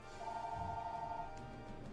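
A telephone rings indoors during a late-night tabletop card game, a steady electronic trill lasting about a second and a half over quiet room background, with no talking.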